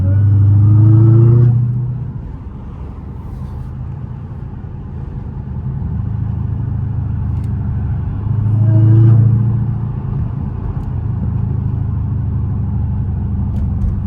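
A Dodge Hellcat with supercharger whine rolls through heavy traffic, its engine rising in two revving swells over a low steady rumble, heard from inside the car.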